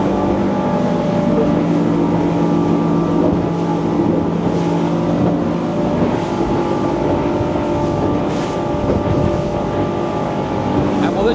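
A Cruise Craft 720 Exp boat runs at speed on a Yamaha V6 F350 outboard, giving a loud, steady engine drone with rushing water and wind noise throughout.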